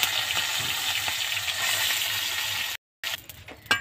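Fish frying in hot oil in a pan gives a steady, close sizzle, then a short break, then a few crackles and pops.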